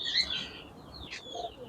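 Faint, high chirps and tweets of young pigeons from a well-bred fancy loft stock, a few short calls at the start and again midway, quiet and slightly distant.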